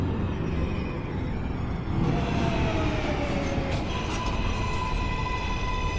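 An NYC Subway R143 train runs in OpenBVE with a steady rumbling roll of wheels on track, joined midway by rising whines and faint squeals as it moves along, continuous and fairly close.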